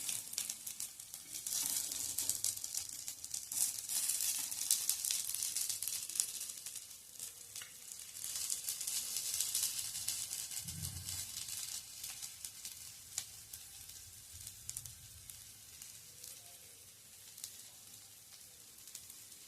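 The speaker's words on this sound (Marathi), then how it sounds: "छान असे दोन्ही बाजूनी क्रिस्पी होईल असं भाजून घ्यायचं" Small vegetable cutlets shallow-fry in oil until crisp on both sides, a continuous soft crackling sizzle at close range with occasional light stirring or turning sounds, fading slightly later, with no talk.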